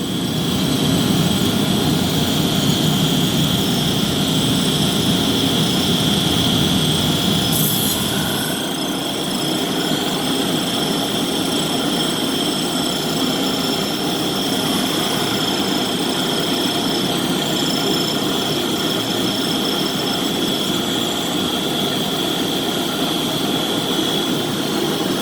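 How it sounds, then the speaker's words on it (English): Industrial 107 scrubber machine running a panel through for a light scrub, a loud continuous whine and roar with a steady high tone that eases slightly after about eight seconds, with no talk. "So this is the 107 scrubber."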